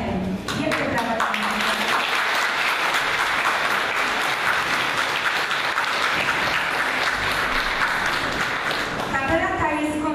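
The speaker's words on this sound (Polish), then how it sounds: "Wielkie brawa." Sustained, loud audience applause fills a brass band's 20th-anniversary concert in Dydnia, a dense, steady wash of many hands clapping from start to finish, with a few voices faintly mixed in near the end.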